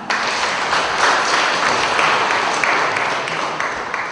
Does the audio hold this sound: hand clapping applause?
yes